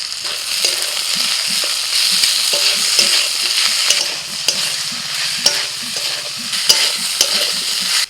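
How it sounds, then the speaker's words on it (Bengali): Vegetables with radish stir-fried in oil as ginger-garlic paste goes in, a loud continuous sizzle with rhythmic scraping and stirring strokes of a spatula against the pan, close and alone. "নাড়াচাড়া করে ভেজে নিয়ে দিয়ে দিচ্ছি আদা রসুন বাটা দিচ্ছি"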